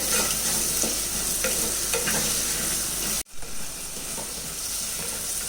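Onions and tomatoes sautéing in a pan for a fish curry, a steady close sizzle with a few stirring scrapes, cut off abruptly partway through and resuming at a lower level.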